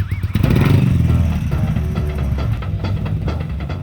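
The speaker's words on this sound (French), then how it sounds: "cet engin étrange propulsé par un bicylindre Harley-Davidson de 120 chevaux exige un petit run d'entraînement" A Morgan three-wheeler with a 120-horsepower Harley-Davidson V-twin engine runs steadily and loudly throughout, its low rumble building after a brief start and holding strong to the end.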